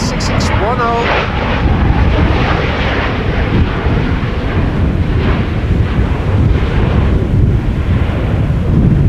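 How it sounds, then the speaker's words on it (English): A Transavia airliner arriving at Amsterdam Schiphol from Innsbruck on a breezy day after a storm, flight 6610, makes a sustained loud jet rumble with wind buffeting the microphone throughout. "Transavia returning from Innsbruck. Flight 6610."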